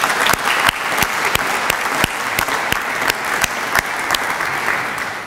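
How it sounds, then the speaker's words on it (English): A plenary audience gives a loud, sustained round of applause, dense clapping throughout, with sharp individual claps standing out at regular intervals close by. "could we give them all a huge round of applause at this stage"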